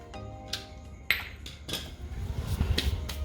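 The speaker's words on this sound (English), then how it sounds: "grab it like that up and down and just give it a shake like that" A metal hubcap being shaken up and down and worked off a car wheel rattles and clinks in a few sharp, close metallic hits, followed by duller scraping and knocking.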